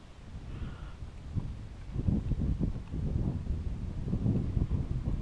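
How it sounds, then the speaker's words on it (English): Wind buffets a microphone outdoors on a flounder fishing trip, a continuous low, rumbling gusting roar that swells and dips, loud and close, with no clear speech. "The wind's blowing."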